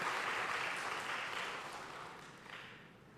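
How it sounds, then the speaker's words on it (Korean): Church congregation applauding during an afternoon worship service, a soft, diffuse wash of clapping that slowly fades, heard from a distance. "우리 박수 한번 하시겠습니다."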